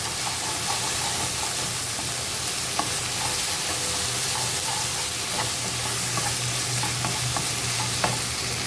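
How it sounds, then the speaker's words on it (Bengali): Onions, tomato and green chillies with a pinch of salt fry in hot oil, giving a steady close sizzle broken by occasional clicks of stirring. "আমি এখানে তেলের মধ্যে পেঁয়াজগুলা, টমেটো, কাঁচামরিচ, একটু হালকা লবণ দিছি"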